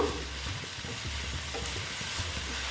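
Soya chunks sauté in a pan with a constant close sizzle and repeated rhythmic stirring scrapes through it, and no one speaks.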